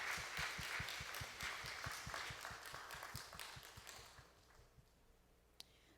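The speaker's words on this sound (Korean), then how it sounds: "네, 그렇게 행하실 우리 주님께 감사의 박수를 좀 올려드렸으면 좋겠습니다" A church congregation at a Korean Sunday worship service claps together in a steady, rhythmic beat that gradually fades out, followed by a single faint tap.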